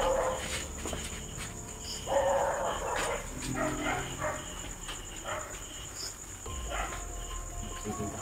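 Several dogs bark repeatedly at a distance outdoors at night, sharp yips and woofs coming in irregular bursts over a steady background of chirping crickets.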